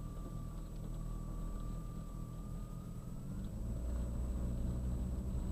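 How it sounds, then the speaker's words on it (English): A car passes along a road beside a construction work area, a steady, fairly close engine rumble and tire hum that holds through the stretch and swells slightly toward the end, with no talking. "I'll let this car go by."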